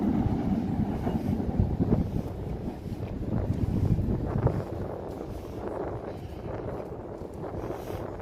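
A Chicago CTA Red Line L train rumbles past in a steady, loud roll of wheels and cars, mixed with gusts of wind buffeting the microphone and no talking.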